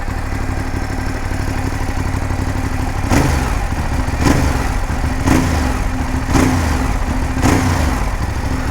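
A 2019 Ducati Monster 821 V-twin motorcycle idles in neutral with a steady, close, loping rumble, then is blipped in five short, evenly spaced throttle revs.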